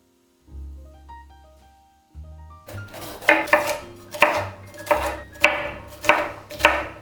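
Knife chopping vegetables on a cutting board for a quinoa meal-prep bowl, a steady run of sharp, close chops after a soft musical intro, with no talking.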